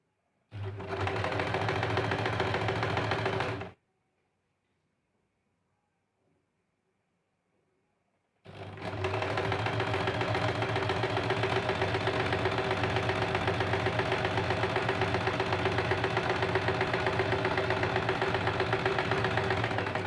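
A sewing machine stitches a seam on a princess-cut blouse, running in two long steady bursts of rapid mechanical whirring separated by a few seconds of silence, close and loud.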